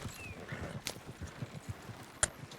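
Soft, steady clip-clop of horse hooves at a walking pace in a video game, fairly faint, with a brief sharp accent near the end.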